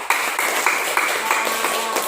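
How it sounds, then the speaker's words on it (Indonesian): Children clap their hands together in a school health-training session, a series of sharp bright slaps in an uneven rhythm over a steady roomy wash of background noise, fairly close. "Nah, tepuk tangan buat semuanya."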